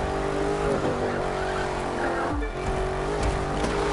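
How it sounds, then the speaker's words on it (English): A car drifts through a corner in The Crew 2, its tires squealing loudly and steadily over a continuous engine roar, with a brief dip midway. "That was a nice drift then."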